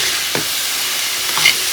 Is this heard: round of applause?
no